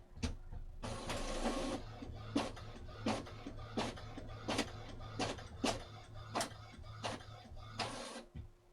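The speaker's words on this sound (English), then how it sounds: "I'm going to go up to the maintenance drop down list and choose Print Test Page." A wireless printer runs a test page, its mechanism whirring steadily while sharp clicks and clunks of the paper feed repeat at a regular pace, with a final thunk near the end.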